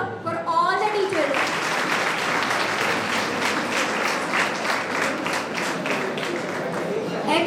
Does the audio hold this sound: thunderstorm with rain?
no